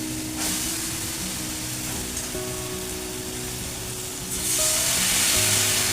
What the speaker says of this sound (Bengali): চিকেনটা এবারে দিয়ে দিচ্ছি।